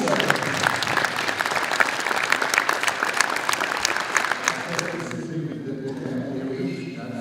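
Steady audience clapping fills a youth tennis tournament prize ceremony, sustained and fairly close, then thinning and fading near the end as a voice begins over it.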